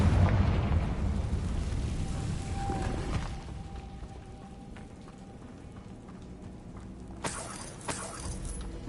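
Loud opening blast from a Confringo fire spell in Hogwarts Legacy, rumbling then fading into a crackling low wash, with a couple of sharper smaller bangs near the end.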